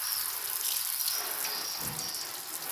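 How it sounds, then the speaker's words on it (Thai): A hose sprays a steady, hissing stream of water over a car to rinse off stain-removing cleaner before the wash. The spray runs continuously and fairly loud throughout. "แล้วเราก็ฉีดน้ำออกก่อนล้างน้ำ"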